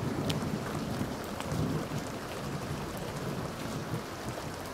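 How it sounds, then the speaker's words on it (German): Steady rain in The Sims 2, a continuous even hiss of falling drops with a low rumbling undertone, moderately loud and unbroken, with no voices over it. "Regen."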